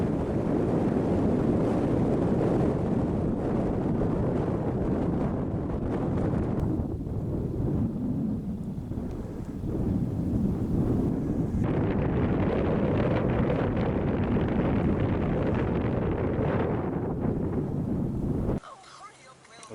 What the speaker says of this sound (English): it is quite windy up there